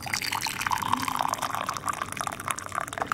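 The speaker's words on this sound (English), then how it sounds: "Hot water from the kettle here," Hot water from a kettle pours steadily into laboratory glassware, a continuous close splashing trickle with no pauses.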